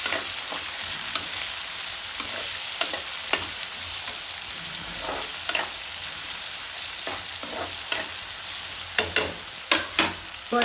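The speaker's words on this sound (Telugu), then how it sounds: "ఇది బాగా ఫ్రై అయ్యాక మనం దీంట్లో కొన్ని టమాటోస్ యాడ్ చేసుకోవాలి" Tomatoes fry in a pan with a constant close sizzle and repeated scraping and knocking of a stirring spoon, the clacks coming in uneven bursts toward the end; no one talks.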